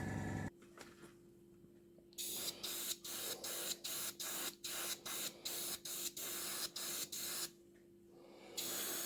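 Aerosol spray paint applied to a model of the aircraft carrier HMS Queen Elizabeth, heard as a run of short, regular hissing bursts close by, each cut off sharply, after a softer hiss at the start.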